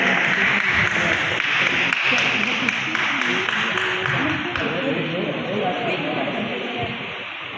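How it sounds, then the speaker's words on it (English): Applause at an awards ceremony, a broad, steady wash of clapping from a sizable audience in a hall that slowly tapers off, with voices faintly underneath. "Big round of applause for Rajkumar Kanodia"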